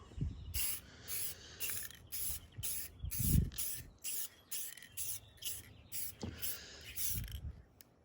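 Aerosol spray can laying clear coat onto a car's faded paint, heard as a series of short, close hissing bursts in a steady stop-start rhythm with brief pauses between passes.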